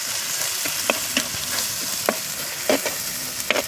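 Coriander powder is stirred into a frying tempering for spicy country chicken curry, a constant crackling sizzle punctuated by a handful of distinct spoon clinks and scrapes on the pan, near and without voices.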